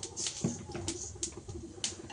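Whole cumin seeds sizzling in hot oil in a wok, a soft crackling patter with small sharp pops scattered across a short stretch.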